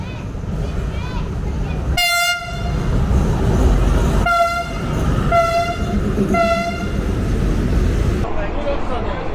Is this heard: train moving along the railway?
yes